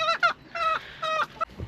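A chicken clucks and squawks in several short, loud bursts close by, with brief gaps between calls and no talking.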